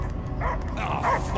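In the Guardians of the Galaxy video game, a dog barks in short, muffled yips and whimpers over a dense, rumbling game soundtrack.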